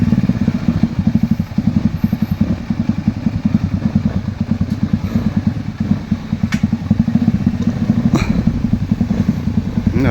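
A motorcycle labours along a rough trail, its engine loud and close with a rapid, choppy putter and rattling clatter throughout, occasional sharp knocks cutting in.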